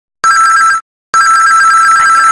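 A telephone rings through the handset as a call is placed, two loud electronic ring bursts, a short one and then a longer one after a brief silence, heard with no one talking.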